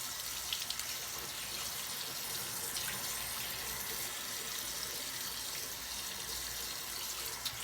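Water runs steadily from a tap into a sink while a face is rinsed, a close, continuous splashing rush with small spatters and no talk.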